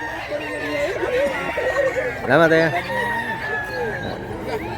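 A rooster brought by a seller to a fowl market crows once, loud and close, midway through, while people chat and haggle around it.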